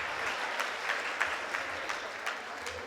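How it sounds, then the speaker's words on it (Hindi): An audience at a Hindi poetry gathering in Aligarh claps together in a steady patter of applause, moderately loud and sustained for a few seconds. "तालियां बजा दीजिए एक बार"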